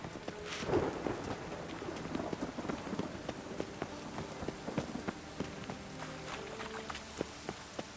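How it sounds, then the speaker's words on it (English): Steady rain hiss with low rumbling thunder in a harbour town in The Witcher 3: Wild Hunt, the downpour continuous and moderately loud, with scattered sharp drips and clicks layered on top. "The rain will ruin it."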